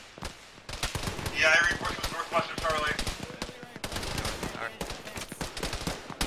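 Rapid automatic gunfire in Arma military combat with ShackTac, dense bursts of shots and crackling reports running throughout, mixed with radio chatter and voices talking over the fire.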